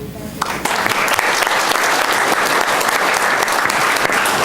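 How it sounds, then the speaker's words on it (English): An evening meeting audience breaks into a loud round of applause, a dense, sustained burst of many hands clapping close by after a short quiet start. "I would like to offer them a round of applause."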